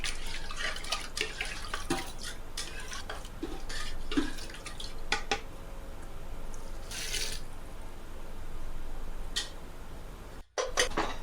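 Running water splashes and trickles into a metal pot while rinsing masala for mutton khichda, with intermittent clinks and drips, steady and close.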